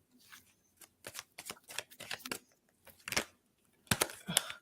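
Tarot reading cards are shuffled close up in several quick riffling bursts separated by short pauses, crisp and papery, with no talking.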